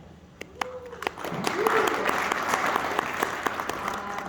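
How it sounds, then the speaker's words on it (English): A convention audience bursts into applause, a dense wash of many hands clapping that swells and holds steady for a few seconds, with a few voices and whoops mixed into the crowd. "by a round of applause, how much fun are you having at this convention?"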